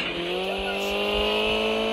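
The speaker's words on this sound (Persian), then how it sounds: "اینم ماشین توه، میخوام بهت رانندگی یاد بدم." A car drives with a steady engine drone whose tones climb slightly, as if gently accelerating, running continuously and fairly close with no voices over it.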